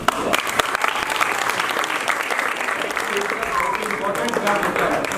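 Steady audience applause at a stage play fills the room, a dense wash of many hands clapping continuously with a few louder claps standing out, and faint voices mixed in underneath.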